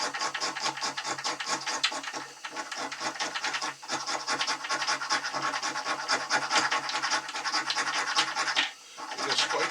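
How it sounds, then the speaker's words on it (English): Fatwood is scraped with a blade into a pile of fire-lighting shavings, producing rapid, close, rhythmic rasping strokes that run almost continuously with a couple of brief pauses. "You're going to scrape up a pile of shavings."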